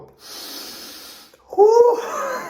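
Deep, forceful breaths come just before a morning cold-water plunge. A long airy inhale is followed by a sharp, voiced exhale with a gasping edge, close to the listener.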